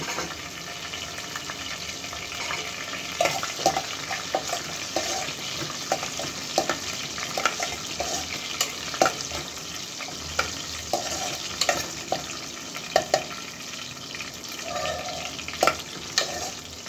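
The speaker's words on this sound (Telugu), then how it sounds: "కరివేపాకు వేసినాక కొంచెం ఫ్రై అయినాక ఇప్పుడు మనం ఇది రుబ్బుకున్నాం కదా ఇది వేసేయాలి." Ground masala paste sizzles steadily in hot oil with curry leaves for a fish curry, a constant crackling fry with scattered scraping stirs close by.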